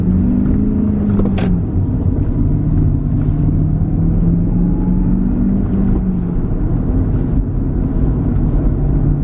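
A BMW E39 M5 with freshly replaced ignition coils idles to warm up and then pulls away under light throttle, a loud, steady engine drone with shifting low tones throughout and no one speaking.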